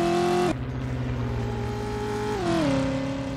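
Car engine in the driving game Driver: You Are the Wheelman revving steadily and climbing in pitch as it accelerates, with a gear shift partway through; loud, close and continuous with no talking.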